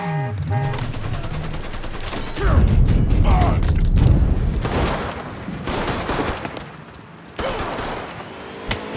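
Gunfire in the Mafia III video game, loud bursts of automatic shots with heavy booms and clattering mechanical noise that rise, fade and flare again over several seconds.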